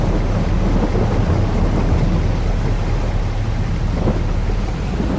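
Rain and thunder in the farming game Farming Simulator 22: a loud, steady downpour with low rumbling thunder running continuously throughout, with no talking.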